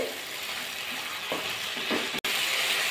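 Cauliflower and spices sautéing in a pan for a spicy cauliflower jhal curry, with a steady close sizzle and a few scraping stirs near the end and a brief dropout.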